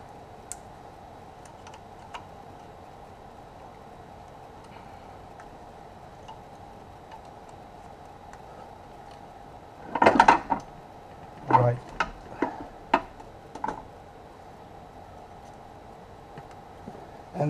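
Electrical connectors on a BMW F01's N57D30 engine snap into place during fuel injector replacement: a handful of sharp, close clicks in the second half, following a long quiet stretch of low background hum.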